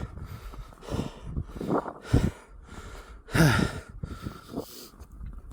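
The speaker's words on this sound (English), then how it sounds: "sorry for the heavy breathing." Heavy, laboured breathing comes from a person walking through a blizzard, with rough gasps and sighs close to the microphone and a few louder puffs under wind noise.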